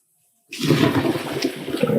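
Drained cooked pasta, a one-pound box, pours into a kitchen sink: after half a second of silence a loud, steady gush of rushing water runs to the end, with no talking.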